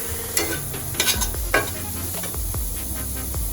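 Paneer mashed and stirred in an oiled pan, a gentle sizzle broken by a few sharp scraping and tapping strokes of a utensil, close and fairly loud, no voices.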